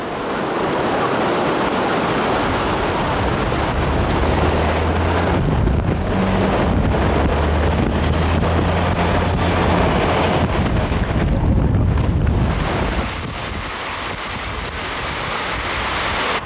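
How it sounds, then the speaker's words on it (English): Strong, roaring wind gusts from a Portland winter storm batter the microphone in a continuous loud rush, with a low rumbling hum underneath, easing slightly near the end. "The highest reported wind gust in the last hour here in Portland was 61 miles per hour, with sustained winds at 43 miles per hour."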